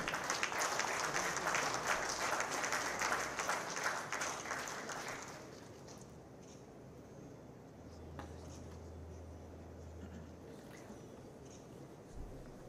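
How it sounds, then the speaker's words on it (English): Dense audience applause at a maritime board MOU signing ceremony in Maharashtra fills the first five seconds, then drops away abruptly, leaving a quiet room with a low hum. "Keep the applause coming, ladies and gentlemen."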